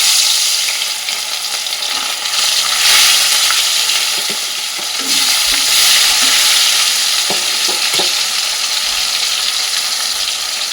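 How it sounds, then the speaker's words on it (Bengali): Fish frying in plenty of mustard oil in a wok, giving a loud, continuous close sizzle and crackle with occasional spatters and stirring scrapes, and no voices over it. "মাছটা কিন্তু ভাজা হয়ে গেছে, হয়তো উল্টে দেবো।"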